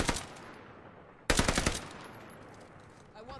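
Bursts of rapid automatic gunfire in a battle royale video game, a loud volley at the start, a brief lull, then another heavy burst that fades into lingering echo, with faint background game sounds.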